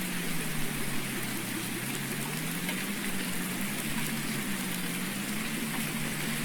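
Steady, even rain hiss in a farming simulation game, a constant wash of falling drops on surfaces with no breaks, under a low droning hum.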